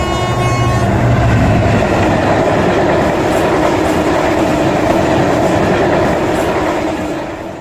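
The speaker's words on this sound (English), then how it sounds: "The speeding train produces a note all too familiar." A speeding train rushes past with a loud, sustained roar and rhythmic clatter, a horn tone sounding at the start before the noise fades slightly at the end.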